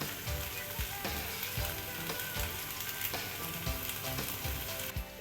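An egg frying in a pot on a home stove while noodles are cooked, a loud continuous sizzle close by with repeated low knocks from the pot and utensil.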